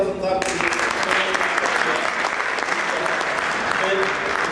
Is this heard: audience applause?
yes